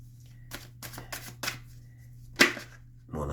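Tarot cards being handled and shuffled while one is drawn, giving a run of soft papery flicks and riffles, then a single sharper card snap near the end, close and fairly quiet over a steady low hum.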